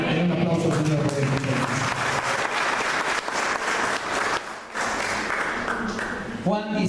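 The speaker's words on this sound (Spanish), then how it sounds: "Den un aplauso al Señor por eso." A church congregation at a Spanish-language service breaks into loud, sustained applause for the Lord, with voices speaking over the dense clapping near its start and end.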